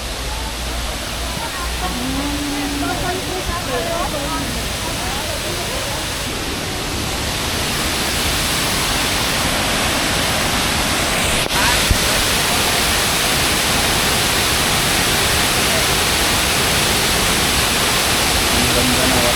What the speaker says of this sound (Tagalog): Ang ganda ng waterfall. Jiufen waterfall.